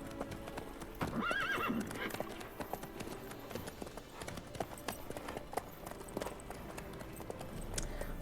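Horse in The Witcher 3 galloping with rapid hoofbeats and letting out a clear neigh near the start, followed by steady running under ambient game sounds.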